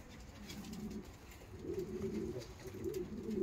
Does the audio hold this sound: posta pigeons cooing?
yes